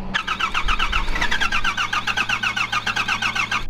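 A 12 valve Cummins diesel in a Ford pickup runs on and won't shut off while fuel goes through the turbo, a loud, steady, close chugging drone with even rhythmic pulses throughout.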